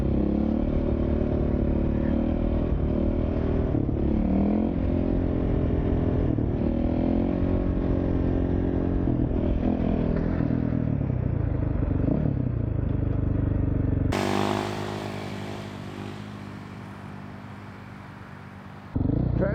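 A dirt bike engine revs continuously with a loud, rough drone during wheelie practice on a lot, then drops to a quieter idle before a final burst at the end.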